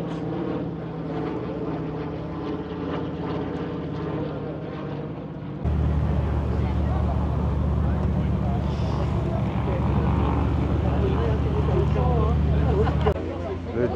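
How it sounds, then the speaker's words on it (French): A 1930 German Junkers Ju-52 propeller plane with 800 horsepower drones with a deep, steady hum that grows louder partway through at an air show, while a person talks over it. "Le Junker Ju-52, un avion allemand de 1930 avec 800 chevaux à bord."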